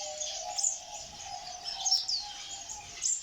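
Goldfinches chirping and twittering in an aviary, a steady stream of bright, high calls with brief louder bursts, fairly close, and no talking.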